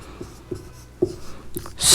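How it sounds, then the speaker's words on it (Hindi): A pen or chalk scratches out numbers, with a few soft, separate strokes at irregular intervals and then a brief louder scrape at the end, with no voice. "यहाँ पर हम लिखेंगे"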